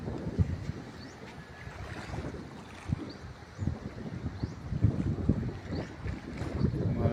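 Strong wind gusting across a seashore in Guimaras before a typhoon, steady blustery rumble with rising gusts and faint surf beneath, no voices.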